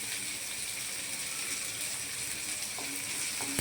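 Chopped onion and asafoetida frying in a pan, a steady close hiss of sizzling oil throughout with a couple of faint clicks near the end, no voices.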